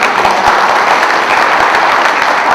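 Audience applause at a future-management forum on the future of universities and education, a dense steady clapping that holds evenly and close for a few seconds with no talk over it.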